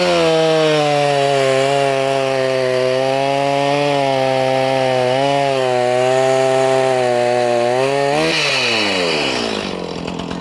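A Stihl chainsaw fitted with full chisel 3/8 chain and a 7-pin sprocket revs loud and steady through a wood cut, its pitch wavering under load before dropping away near the end.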